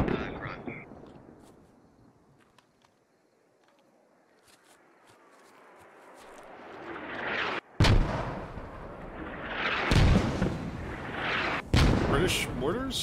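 British mortar rounds landing close by in the military video game Squad, with a fading rumble followed by several loud, sharp explosions in quick succession near the end.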